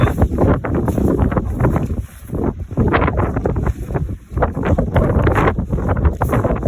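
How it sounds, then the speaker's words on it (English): Strong wind blows outdoors beside a Coleman tent trailer being taken down, roaring and buffeting the microphone loudly and continuously in gusty surges. "You'll see the wind is blowing a lot."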